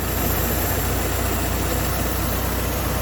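A car engine idles steadily with its air filter refitted after exhaust manifold work, giving a constant, even running hum close by with no talk over it.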